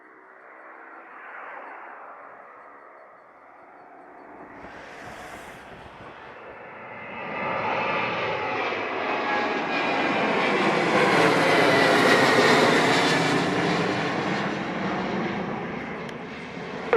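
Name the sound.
airliner taking off from runway 07 at Sangster, Jamaica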